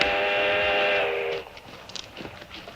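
A steam train's whistle sounds loud and steady for over a second, then cuts off, leaving faint rail noise as the train approaches around a bend, with no voices.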